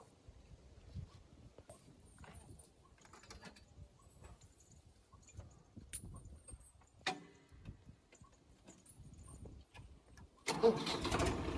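A tractor engine in the Farming Simulator video game starts up after a quiet stretch of scattered clicks and ticks, then roars into a loud, steady run at the very end.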